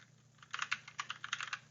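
Someone types an app name on a computer keyboard, a fast, close run of light key clicks that starts quietly and builds into a steady patter over a faint low hum.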